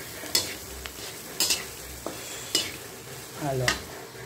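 A utensil stirs tausi milkfish in a sizzling pan, with a few distinct scrapes and clanks spaced about a second apart over a low, steady frying hiss.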